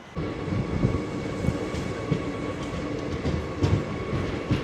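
The 17418 Shirdi to Tirupati Weekly Express running between Yadgir and Guntakal division, a steady close rumble of wheels and carriages with faint rhythmic clatter throughout.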